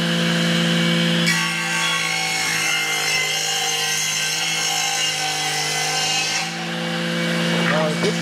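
Steady power planing of red gõ hardwood for a shoe cabinet, a loud continuous whine with a sustained pitch, briefly dipping before resuming, close and dominant throughout.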